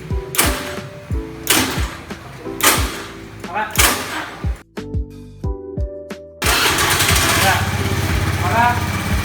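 A motorcycle unlocked with an RFID e-KTP card starts up after several short bursts and settles into a steady, fairly loud idle, with people talking over the early part.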